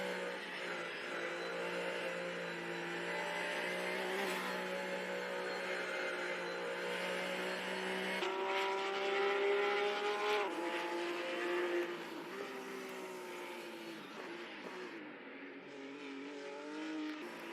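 Race cars in a virtual racing game drone and accelerate continuously, engine pitch climbing and shifting with faint tire squeal, steady and moderately loud with no voices.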